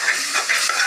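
Tomatoes sauté in a hot pan for tomato rice, a close, steady sizzle broken by quick rhythmic stirring strokes in a brief burst.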